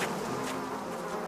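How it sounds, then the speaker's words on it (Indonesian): A bee buzzing as a sound effect, a close, fairly loud continuous drone with a slightly wavering pitch, stopping abruptly at the end. "Dan di tengah perjalanan si Lucy, tiba-tiba ia tersengat lebah."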